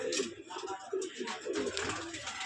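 Jagdobaj pigeons with thick feathered feet coo softly in a loft, a low repeated burbling running steadily over a dense background of other birds chirping, with a faint voice now and then.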